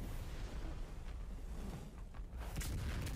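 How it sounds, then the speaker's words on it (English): Deep rumbling blasts from an anime episode roll on continuously, with a fresh burst near the end, like distant explosions booming one after another. "Bunch of more explosions."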